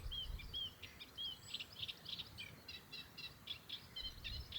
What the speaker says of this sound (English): Possibly a white or pied wagtail.